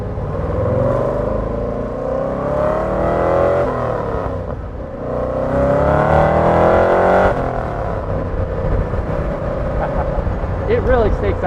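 A 1963 Chevrolet Corvette Stingray's roughly 400-horsepower engine pulls hard from inside the car, its loud note climbing in pitch through two long surges with a dip between, then settling toward the end.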